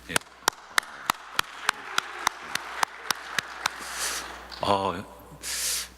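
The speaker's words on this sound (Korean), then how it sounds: "먼저 말씀 시작하기 전에 성가대를 위해서 박수를 한번 쳐줬으면 좋겠습니다" A church congregation at a Sunday service claps for the choir in sharp, evenly spaced unison beats, roughly three per second, followed by a brief voice and breathy noise bursts.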